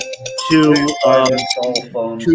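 A phone's melodic ringtone plays loud and close, a short run of bright notes that rise and fall in quick phrases.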